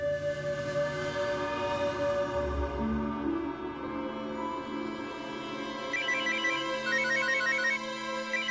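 A phone ringtone plays continuously, a melodic electronic tune with repeating chirpy note patterns growing busier toward the end, no voices.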